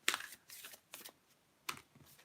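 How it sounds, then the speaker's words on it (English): Tarot cards are shuffled by hand in a few quick riffling bursts separated by short pauses, close but soft, with no voice over them. "let's just contemplate that a second while I shuffle"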